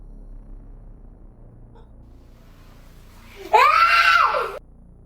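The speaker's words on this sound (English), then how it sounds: "That boy screamed so hard it made me afraid of his shadow." A boy's scream rings out loud and alone for about a second, rising and then holding steady before cutting off, over a quiet background hiss.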